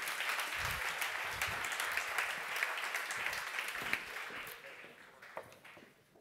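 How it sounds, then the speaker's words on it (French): Sustained loud applause from a conference audience at a retail industry event, dense clapping that slowly fades toward the end. "je vous demande de les applaudir bien fort et de leur donner plein d'énergie."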